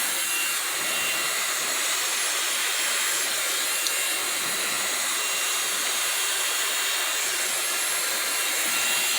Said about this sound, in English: Okay, so let's blow dry this out again.